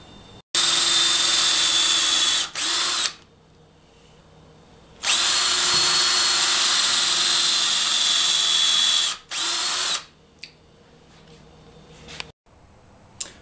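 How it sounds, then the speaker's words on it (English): A power drill bores countersunk holes and drives screws into the oak head of a used wine barrel being made into a table, in loud close bursts of whining motor with short pauses between them. "we're going to countersink drill some holes so that we can screw it down"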